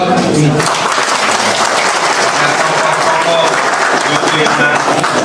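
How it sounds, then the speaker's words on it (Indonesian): An audience at a formal gathering breaks into loud, sustained applause that fills the whole stretch, with a voice speaking over the clapping. "Aplaus."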